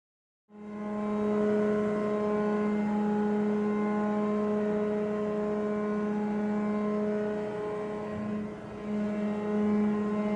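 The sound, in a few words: ship steering gear operating, rudder rams moving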